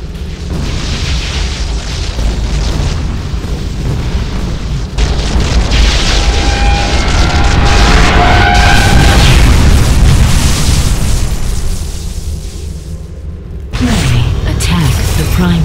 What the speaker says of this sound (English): Red core destroyed